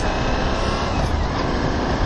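A Suzuki V-Strom 1000 V-twin motorcycle engine drones steadily while riding, heard as a continuous, loud, broadband rumble mixed with wind noise and no speech.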